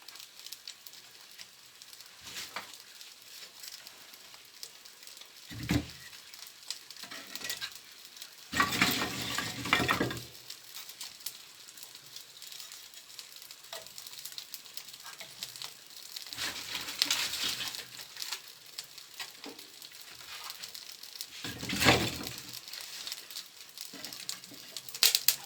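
A fire lit with birch bark and fuel oil in the taiga flares up, a faint steady hiss with irregular louder bursts of crackling over about twenty-five seconds, no voices.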